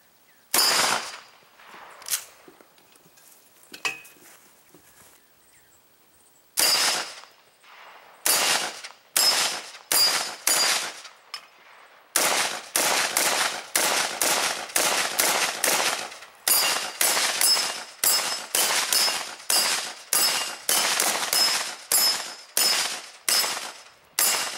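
12-gauge shotgun slugs strike a 10-inch AR500 steel gong hung on rubber hangers, giving a long run of sharp, clanging reports. They come sparse at first, then in a fast, steady, evenly spaced series.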